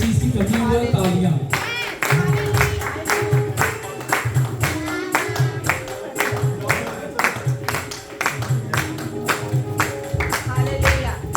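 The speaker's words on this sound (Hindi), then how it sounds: "बस एक चीज की कमी है, तालियां।" A church congregation at a Pakistani Punjabi-Urdu service for pastor's appreciation day claps in a lively, rhythmic, sustained round, loud and close, with scattered voices mixed in.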